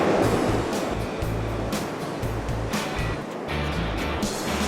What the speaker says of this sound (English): There's quite a wash going out in the shallows here.